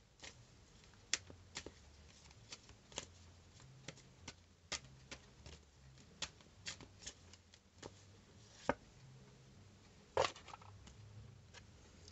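Romance Angels oracle cards being shuffled by hand, a quiet series of crisp riffling flicks and taps at irregular intervals, close and faint with no talk.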